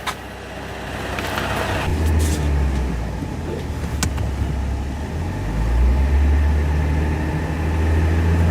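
A car drives up onto a pair of low-profile hydraulic car ramps rated for 11,000 lbs. Its engine gives a steady close rumble that swells briefly partway through, with no talking.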